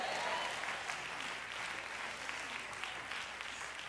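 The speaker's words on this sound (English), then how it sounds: "Clap your hands and shout yes." A church congregation claps steadily through an Easter Sunday service, a dense, continuous round of hand claps filling the room; any shouting is not distinct within the applause.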